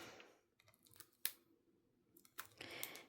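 Scissors cut scrapbook pattern paper at close range, with a sharp single snip followed by a longer run of crisp slicing and rustling, all fairly quiet and without talk.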